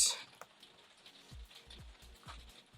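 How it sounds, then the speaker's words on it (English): Steady rain falling outside a cold room, a faint continuous patter with scattered soft drops and low thumps, heard at a distance with no talking. "Like this rain, which doesn't seem to want to stop"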